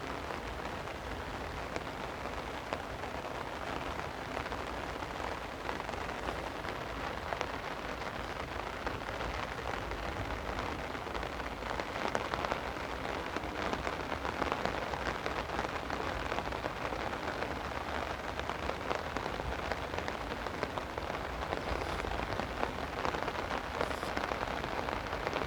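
Heavy rain pours onto a flooded street in Dulong Bayan, Bambang, Taguig, a loud continuous hiss with dense patter that holds steady throughout, with no voices.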